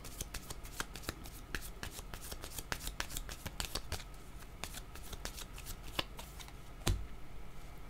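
Tarot cards shuffled by hand, a rapid series of crisp riffling flicks and slaps, close and fairly quiet, continuing steadily with a sharper snap near the end.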